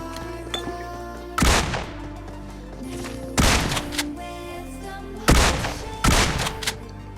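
Gunfire in the battle royale game BGMI: four sharp, loud bursts of shots spaced a couple of seconds apart, each with a quick decay, over quiet in-game background tones.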